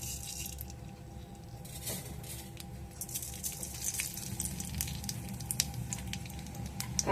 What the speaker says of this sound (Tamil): கடுகு பொரிஞ்சோட்டி